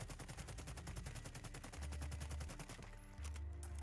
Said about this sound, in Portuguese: vou atirar várias vezes